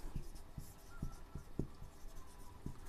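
Pen strokes scratch across paper while a Class 8 math problem is worked out, in short, close, separate bursts spaced about half a second apart, with no voice over them.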